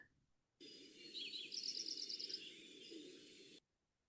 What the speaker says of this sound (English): The Lincoln Sparrow has this interesting sort of bubbling kind of warble song.